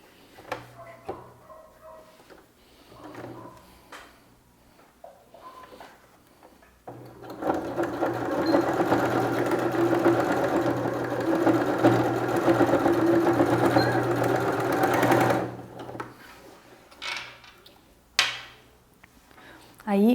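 A sewing machine runs a straight seam that stitches bias binding onto a small cosmetic bag, starting after a quiet stretch with light handling sounds and running steadily for about eight seconds before stopping.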